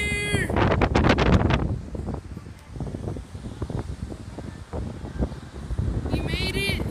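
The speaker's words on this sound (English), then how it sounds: "so windy. The audio might be bad." Strong wind blows across a beach, buffeting the microphone with loud, gusting low rumble that swells and dips, while bursts of other sound and voices briefly cut in near the start and end.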